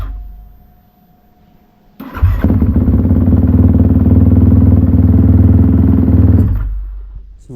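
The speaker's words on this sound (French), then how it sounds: "je vais démarrer la moto parce que j'ai fait le filtre ce matin" A motocross motorcycle engine cranks and fires after a quiet lead-in, then settles into a loud, steady, close-up idle for several seconds before cutting off.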